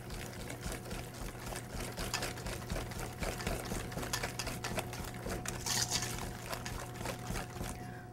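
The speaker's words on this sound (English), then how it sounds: "I'm going to use the whisk to get the batter nice and smooth." Red velvet cupcake batter is whisked in a bowl in quick, rhythmic wet strokes that continue steadily, quiet and close, over a low background hum.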